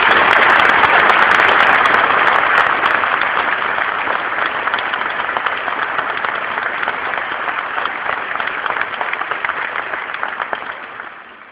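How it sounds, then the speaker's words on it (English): Audience applause at the 21st Annual ACFE Fraud Conference opening ceremony, a dense sustained wash of clapping from a large crowd that holds steady for about ten seconds, then tapers off and stops. "give a warm round of applause"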